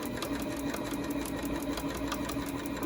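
Sewing machine stitching a fabric tote bag, including back stitches, with a steady rapid mechanical chatter running continuously at close range.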